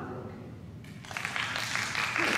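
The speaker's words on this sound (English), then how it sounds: "So just clap if you're okay." A small crowd claps in a burst that swells over a couple of seconds, broadband patter building in loudness with a voice briefly underneath.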